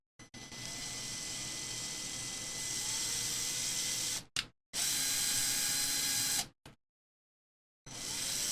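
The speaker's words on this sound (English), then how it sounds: "Everything just will chuck right up into my driver, which is a good thing." A small electric driver running ball studs into a no-prep RC drag car build, a close, steady mechanical whir held for several seconds, cut off, then restarted in short bursts with silent gaps between.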